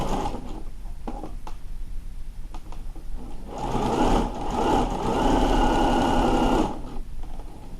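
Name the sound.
sewing machine stitching a sleeve cuff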